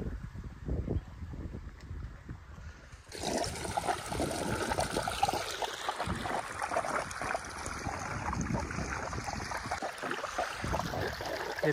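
Irrigation water runs through an okra field in a steady, close trickling rush that swells noticeably after the first few seconds.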